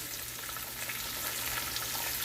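Sprigs of fresh rosemary and thyme sizzle in hot oil for a short-rib dish, giving a steady close frying hiss with light crackle and no voices.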